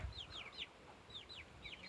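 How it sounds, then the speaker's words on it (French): A hen clucks in a series of short, sharp calls, fairly near and clear over quiet background, with a few repeated bursts spread across the moment. "on a entendu le cri de l'autre poule"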